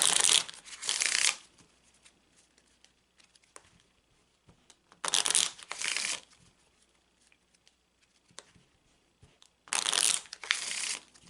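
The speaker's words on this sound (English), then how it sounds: "And now I'm going to start shuffling the cards." Three bursts of Petit Etteilla tarot cards being riffle-shuffled, each lasting about a second, separated by quiet stretches with faint handling sounds.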